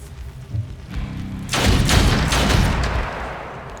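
Gunfire in the tactical video game Othercide: a low rumble and a few soft thumps, then a heavy blast with a burst of rapid, rattling shots that rings out and slowly fades.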